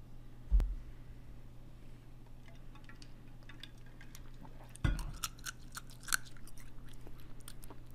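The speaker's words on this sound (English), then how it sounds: "You're going to chew ice?" Someone chews ice nearby, a couple of sharp crunchy bites standing out against a low steady hum and faint background clicks, no voices.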